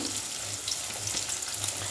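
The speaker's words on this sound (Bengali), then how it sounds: "টমেটোগুলো আর পেঁয়াজটা ভাজা হোক" Steady, hissing sizzle of onions and tomatoes frying in a hot pan, close and continuous with faint stirring underneath.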